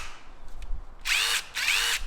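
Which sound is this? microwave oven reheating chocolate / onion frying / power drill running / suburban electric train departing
power drill running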